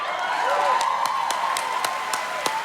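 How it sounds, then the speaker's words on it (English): A large audience at a Celebration of Black Cinema show claps and applauds, a steady wash of hands under a sustained tone, with sharper individual claps standing out across the span. "clap if you happen to be Black right now"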